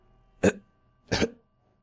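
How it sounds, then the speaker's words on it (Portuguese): A man's two short, harsh coughs, close and separated by a brief pause, in otherwise quiet surroundings. "O homem começa a tossir e a puxar o ar forte em seus pulmões."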